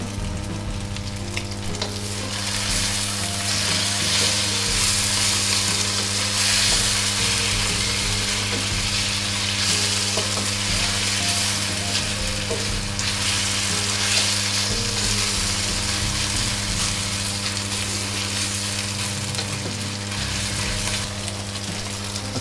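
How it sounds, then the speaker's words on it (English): Beef slices searing in a hot pan with Shaoxing wine and soy sauce for chow fun, making a loud, unbroken sizzle close by that holds steady the whole time with no speech. "just gonna leave the beef there and let it sear for a little bit"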